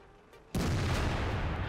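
A World of Tanks tank gun fires once after a quiet moment, a sudden heavy boom followed by a dense, rumbling roar that fills the remaining second, loud and close.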